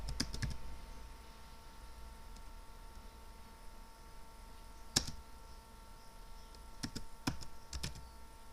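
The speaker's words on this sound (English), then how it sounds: "Let's type something." Quiet computer keyboard typing at a desk, a few short bursts of key clicks separated by pauses, close but soft against a faint background hum, no talking.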